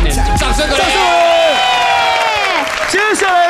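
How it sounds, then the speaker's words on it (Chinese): Crowd at a university dance competition cheering, whooping and applauding loudly and continuously, with excited shouts rising over steady clapping throughout. "掌声鼓励！"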